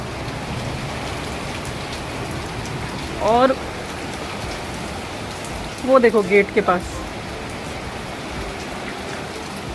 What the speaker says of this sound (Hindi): बहुत सारे ओले गिर रहे हैं। बहुत ख़राब मौसम हो गया है।